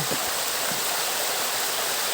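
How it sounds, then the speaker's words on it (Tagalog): A high waterfall roars as a steady, dense rush of falling water, loud and close, with no break in the noise. "ito guys, yung ibaba nito ay mataas na talon"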